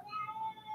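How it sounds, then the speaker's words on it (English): A pet cat lets out a single short, faint meow indoors, a thin tonal cry with no talking over it. "Can you guys hear my cat?"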